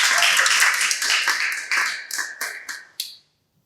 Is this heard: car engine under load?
no